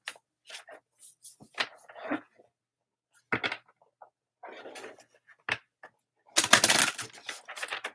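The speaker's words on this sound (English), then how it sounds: "I'm going to take a minute and shuffle all of these cards" Tarot or rune cards shuffled by hand in short bursts of papery riffling and flicking, separated by pauses, with a louder flurry of card noise toward the end and no talking.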